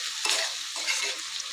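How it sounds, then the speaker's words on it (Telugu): Tomatoes and capsicum fry in hot oil for a capsicum curry, giving a steady soft sizzle with a couple of louder stirring scrapes, close and alone without talk. "ఇప్పుడు ఇవి కూడా మంచిగా కొంచెము ఆయిల్లో ఫ్రై అవ్వనివ్వాలి"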